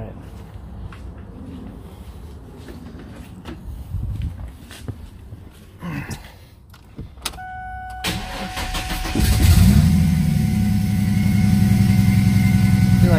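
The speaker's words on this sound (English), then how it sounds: "Like there's a belt or pulley noise." A turbo V6 Mustang engine cranks and starts after several seconds of footsteps and handling noise nearby. It then settles into a loud, steady run with a constant whirring that fits belt or pulley noise.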